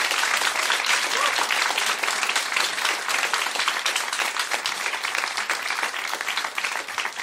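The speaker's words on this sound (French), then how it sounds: "J'aimerais qu'on s'applaudisse tous ensemble." An audience applauds together at the start of a live comedy show, steady dense clapping filling the room continuously and fading slightly toward the end.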